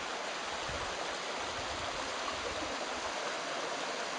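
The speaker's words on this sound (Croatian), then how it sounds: "Čuje se žuborenje fino." A small winter mountain stream near Trebišće, Croatia, gurgles and babbles with a soft, steady, continuous wash of water heard from nearby.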